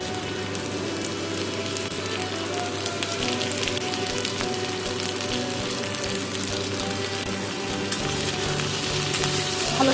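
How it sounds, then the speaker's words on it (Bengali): Cut potato and eggplant fry with lightly browned onions in a pan, giving a continuous close crackling sizzle that holds steady throughout, with no talking. "পেঁয়াজ যখন হালকা ভাজা হয়ে যাবে, দিয়ে দেবো আলু আর বেগুন কেটে রাখা।"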